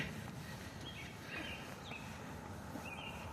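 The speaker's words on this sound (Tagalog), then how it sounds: "Nakaka-relax yung huni ng bird." Faint bird chirps and short whistles come and go over a steady outdoor background hum.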